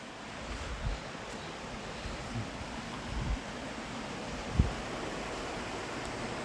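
A mountain stream near Madrid flows with a steady, soft broadband rush, faint and continuous, with a few brief knocks and no voices.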